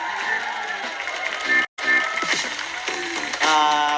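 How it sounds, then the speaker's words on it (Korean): Studio audience at a televised trot music show cheering and shouting with whoops, lively crowd noise mixed with voices and music, cut by a brief silent gap midway before rising again. "여러분 신성 씨 큰 박수 부탁드립니다"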